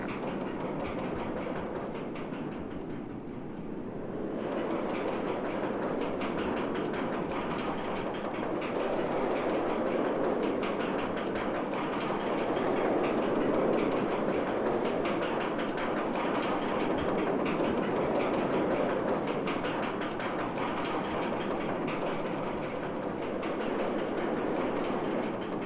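Trains running on a roller coaster track in the game OpenRCT2, a steady rumbling clatter that carries on without a break for about half a minute, with no talk.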